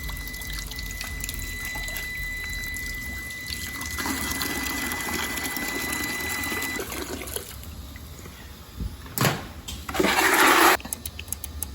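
Water flushing through a century-old mansion's steam boiler system: a steady rushing hiss with a faint whine, swelling midway, then sharp gurgling bursts near the end, close and fairly loud, with no talking.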